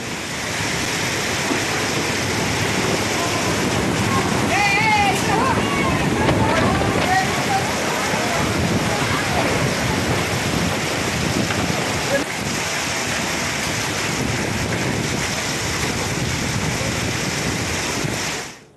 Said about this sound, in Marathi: बीडच्या नवगण राजुरी परिसरामध्ये सुसाट वाऱ्यासह मोठ्या प्रमाणात अवकाळी पाऊस झाला